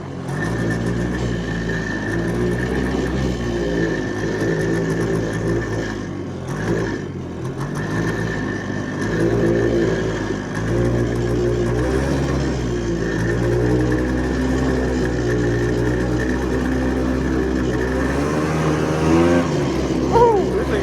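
A 1977 Honda Odyssey FL250 off-road buggy engine drones and revs continuously while driving, loud and close, with the pitch rising and falling throughout and a voice briefly heard over it.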